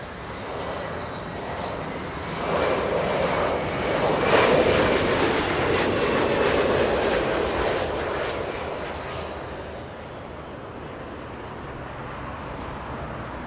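A SkyWest Embraer E175 jet arriving at Los Angeles International Airport roars steadily, its engine noise swelling to a broad peak midway and easing off toward the end, heard alone without talk.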